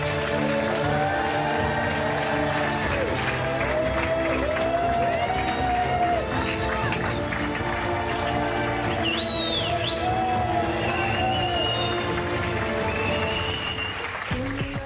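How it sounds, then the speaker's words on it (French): Wedding guests clap in steady, sustained applause as the newlyweds and crowd leave a French town hall, mixed with crowd chatter and murmuring throughout. "c'est sous une pluie d'applaudissements que les jeunes mariés et les convives sortent de la mairie"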